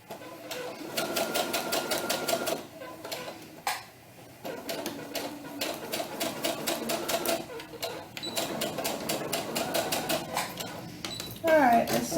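Rapid mechanical clatter of a sewing machine stitching a doll tunic, running in several bursts with brief pauses between them.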